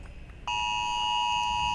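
A phone notification beep rings out alone after a short quiet start, one sustained bright electronic tone that holds steadily to the end.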